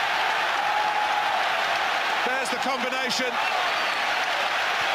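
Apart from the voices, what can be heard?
football stadium crowd applauding and cheering Arsenal's goal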